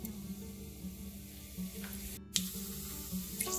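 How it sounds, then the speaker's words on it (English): Whole spices and cumin seeds sizzling in heated oil while making chana masala, a soft, steady crackling fry at low volume with a couple of brief sharper pops. "Once the oil gets heated, I'm going to add the whole spices and cumin seeds."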